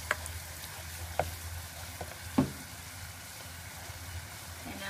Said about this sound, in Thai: น้ำตาลเขาละลายแล้วเริ่มเดือดเป็นฟองนะคะ